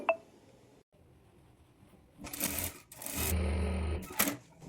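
A tailor's sewing machine joins fabric pieces for a sleeve, running in short bursts of fast whirring stitches. Quiet pauses and small clicks come between the runs.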